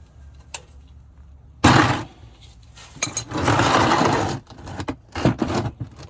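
Socket wrench with a 15 mm socket breaking loose the oil drain plug on a 2011 Chevy Colorado 2.9L, a series of loud close scraping and clanking bursts with short pauses between them.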